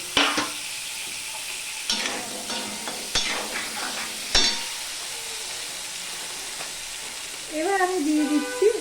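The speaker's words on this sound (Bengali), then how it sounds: "আলুটাকে ভালো করে আমি মিশিয়ে নিচ্ছি" Potatoes being stirred in hot oil with salt and turmeric while cooking Bengali egg curry, a steady sizzle with scraping stirs and a few utensil knocks, louder clatter near the end.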